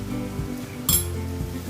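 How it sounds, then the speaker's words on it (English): Spoon clinking against a steel bowl while mashed potato is mixed with dabeli masala, a soft thud and scrape followed by one bright clink, close and brief with no talking. "Now mix this well, and if required you can add some more masala to this."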